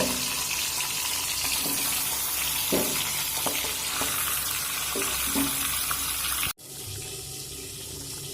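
Fish heads fry in hot oil with a continuous loud hiss and sizzle and occasional pops. After about six and a half seconds the sound drops sharply to a quieter, duller sizzle.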